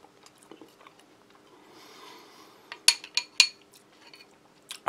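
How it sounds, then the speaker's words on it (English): Biting and chewing a biscuit from a Singapore single meal ration pack with cutlery, a few sharp clinks and crunchy bites standing out over quiet, soft chewing. "Try a little bit of the biscuit."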